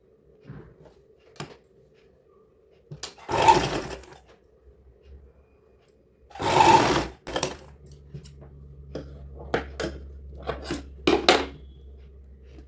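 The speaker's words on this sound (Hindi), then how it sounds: "हमने यहाँ पर इसको सिल लिया है" A sewing machine stitches fabric for a child's sharara outfit in two short motor bursts, each about a second long. Scattered clicks, taps and handling noises of the cloth fill the gaps.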